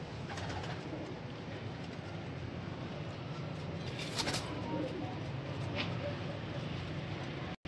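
Sialkoti pigeons cooing softly in a loft, low and steady, with a brief burst of sharper noise midway and faint background sounds.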